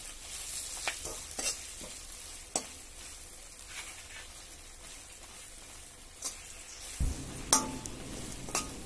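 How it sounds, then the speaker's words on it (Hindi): Green chilies fry in a pan with a soft sizzle while a spoon stirs and scrapes in irregular strokes, with sharper clinks and louder stirring near the end. "अब मिर्च डालें और अच्छे से मिक्स कर लें।"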